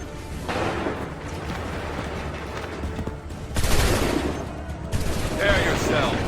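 Musket volleys from soldiers in Assassin's Creed 3, loud ragged bursts of massed gunfire that swell and fade in waves, with shouted voices mixed into the battle din.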